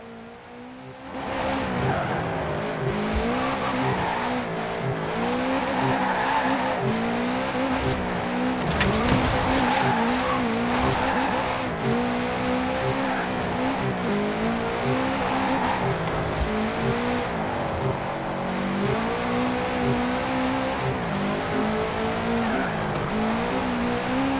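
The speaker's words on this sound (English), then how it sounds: "So here we go with a little bit of oversteer again." A 2013 Subaru BRZ race build with rear-wheel drive, driven in Forza Horizon 4, holds a steady, wavering engine drone as its tires squeal through repeated oversteer slides. The sound is loud and continuous, with no talking.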